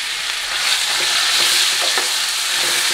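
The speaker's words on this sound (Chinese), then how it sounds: "煎到半干下瘦肉，" Lean pork fries in a wok with hot oil, a loud continuous sizzle and crackle heard up close, with occasional stirring scrapes and no voices.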